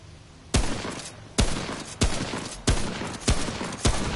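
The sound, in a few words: hunting rifle gunfire in the video game Remnant: From the Ashes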